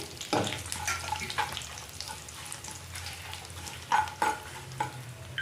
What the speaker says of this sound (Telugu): ఇవన్నీ వేసుకొని ఫ్రై చేసుకోవాలి.